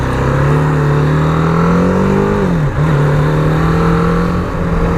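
A loud, steady engine drone with a low throbbing note that rises slightly, dips briefly, then holds: a 2017 BMW G310R single-cylinder 310 cc motorcycle revving close by.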